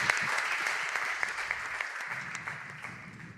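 A crowd applauds at ESL headquarters during a Clash of Clans event, steady dense clapping throughout that tapers slightly toward the end.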